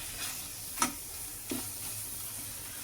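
Paneer sautés in ghee for kalakand with a faint, even sizzle, broken by two soft clicks of a spoon against the pan.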